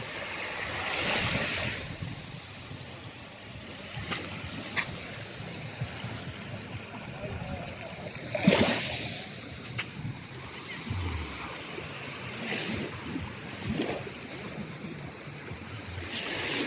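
Water splashing and rushing over an Ulefone Armor 21 rugged phone during an outdoor water-resistance test, a steady wash of surf-like noise with a few sharper bursts, mostly alone.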